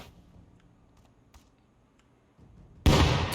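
A porcelain-skinned grenade detonates in Rust after a stretch of quiet, faint background rustle: one sudden, loud broadband blast that lingers briefly as a rumbling roar.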